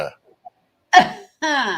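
A voice imitates an engine turning over with a small cough, a short rough burst followed by a brief voiced tone, close and clear.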